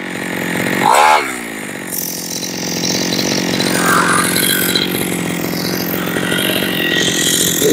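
Small motorcycle engine idling steadily after a kick-start, a loud, even buzzing drone that runs the whole time, with a brief rev swell near the start.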